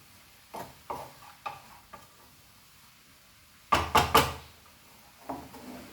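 A spoon scraping and tossing cabbage with dry prawns for kismur in a pan, in a few short bursts, then a louder cluster of quick clattering strokes and one last scrape.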